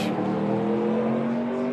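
A Toyota stock car in an ARCA race at Watkins Glen cruises down the front stretch, its engine a steady, sustained hum at moderate distance, with no pitch swell of a close pass.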